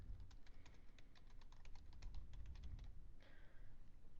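Quick, fairly even keystrokes patter on a computer keyboard for about three seconds, faint and close, then stop.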